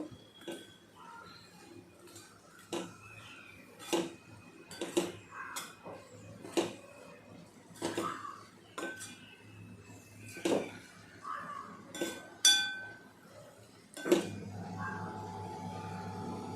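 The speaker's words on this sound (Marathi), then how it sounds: "ही भाजी आता आपण छानपैकी हलवून घेऊया" Fodshi wild vegetable being stirred in a pan, heard as a series of light metallic clinks and taps from a spoon against the pan, spaced irregularly and fairly quiet, followed by a low steady hiss near the end.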